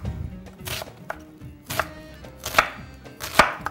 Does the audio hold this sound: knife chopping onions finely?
yes